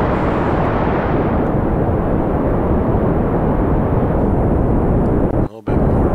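Rocket engine thrust in Kerbal Space Program roars as a loud, steady broadband rush, then briefly cuts out near the end before returning.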